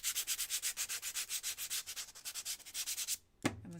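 Sandpaper rubs back and forth in quick, even strokes, about five per second, close and fairly soft, before stopping abruptly with a small knock at the end.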